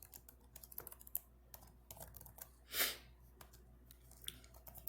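Quiet, rapid clicking of computer keyboard keys, irregular taps with one louder burst partway through, in a room with no talk.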